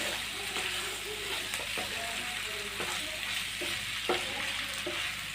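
Macaroni coated in sauce being stirred in a pan, a steady close sizzle with the spoon scraping and clacking against the pan in repeated irregular strokes, no voices.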